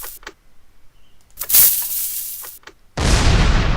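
A TNT cannon fires in a block-building video game: a few sharp short pops and bursts are followed by a loud, sustained explosive blast and roar that fills the final second.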